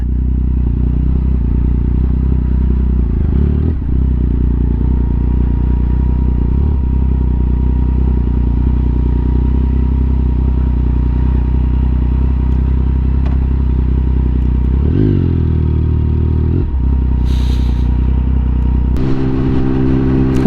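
A Triumph Speed Triple 1050 motorcycle engine drones loudly and continuously while riding through city traffic, with steady low rumble, a few gear changes and revs, and faint traffic noise around it.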